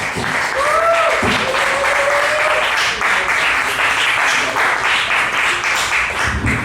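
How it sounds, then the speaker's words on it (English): A comedy club audience applauds a comic's introduction with steady, dense, sustained clapping, a few cheers and whistles rising near the start. "Put your hands together for Mr. Jesse Jarvis."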